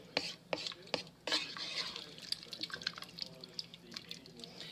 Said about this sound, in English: I'm going to give this a nice little stir.